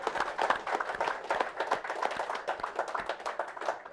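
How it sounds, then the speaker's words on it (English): An audience in a bar venue claps steadily, a dense patter of hands at moderate distance, fairly faint and continuous without cheering. "Give yourself a round of applause here at the Hooks tonight."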